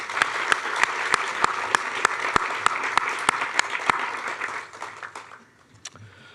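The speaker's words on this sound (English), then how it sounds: "this round of applause is for you." Audience applause at a college science and mathematics awards ceremony, steady clapping from a crowd with sharp close claps from nearby hands, fading out over the last seconds.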